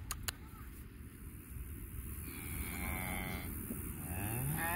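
Cows at a farm let out long, low moos, one after another, from close by, over steady background noise and a little quiet talk.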